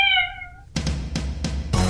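A cat meows in one clear, drawn-out call with a falling harmonic pitch, heard near and alone in a Christmas show performance, then followed by several loud broadband bursts of other noise.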